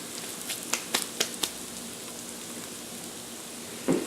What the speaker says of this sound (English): We're going to let this sizzle and get a little crispy.